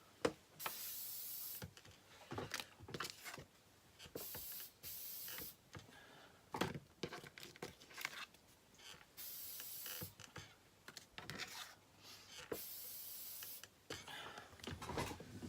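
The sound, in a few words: spraying acrylic sealer from can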